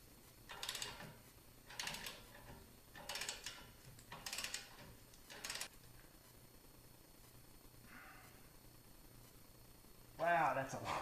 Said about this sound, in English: I got my bigger torque wrench here. It's 103 foot-pounds.